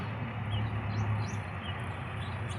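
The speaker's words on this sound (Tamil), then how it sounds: "சிட்டுக்குருவி சிட்டுக்குருவி." Several high, faint house sparrow chirps over a steady loud background hum at daybreak, brief calls scattered across a few seconds with no talk.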